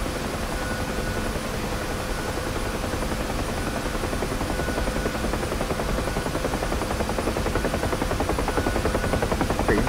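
Helicopter in the DCS flight simulator game: a steady, loud rotor and turbine drone with continuous fast blade chop throughout, no voices.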